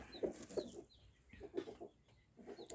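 A broody hen sitting on a clutch of blue eggs gives short, close clucks in scattered bursts, with quieter rustling and soft farmyard noise between them.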